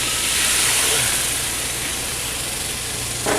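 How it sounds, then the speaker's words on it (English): A pan deglazes while birria braises, releasing a loud steady hiss of steam that eases slightly before a short burst near the end. "Deglaze the pan."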